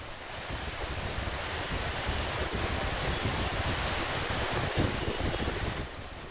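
High surf pounds the Gujarat coast during Cyclone Biparjoy, a steady loud roar of breaking waves mixed with gusting wind noise on the microphone, continuous throughout without any voices.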